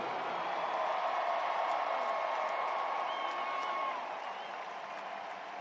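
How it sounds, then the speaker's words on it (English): A large stadium crowd applauds at an Alabama football stadium as a championship flag is raised, a broad, distant wash of clapping and crowd noise that holds steady and eases slightly near the end. "please join me in a round of applause as we raise this piece of Alabama"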